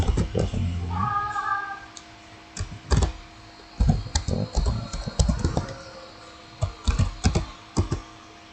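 Keys clatter on a computer keyboard in irregular bursts of taps, near and clear, with a short tonal electronic chime near the start and quiet pauses between the runs of typing.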